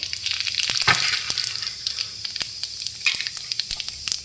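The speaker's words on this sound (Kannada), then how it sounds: "ಒಂದು ಸ್ವಲ್ಪ ಎಣ್ಣೆ ಕಾಯಕ್ಕಿಟ್ಟಿದ್ದೀನಿ" Cumin seeds crackle and sizzle in hot oil, with sharp pops and occasional scraping stirs over a constant frying hiss.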